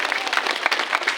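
Audience applause at a Sundanese religious lecture (ceramah) in Kampung Panagan, Garut, given for the event organizers: dense, steady clapping from a crowd held at an even level for just over a second.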